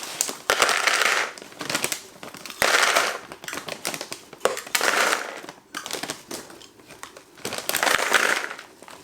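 Salted snack food being crushed by hand in a bowl during Thanksgiving cooking: repeated bursts of crunchy crackling and crinkling, close and fairly loud, arriving in several rough waves with short pauses between them and no talking.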